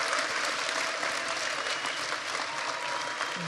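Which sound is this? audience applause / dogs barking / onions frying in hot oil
audience applause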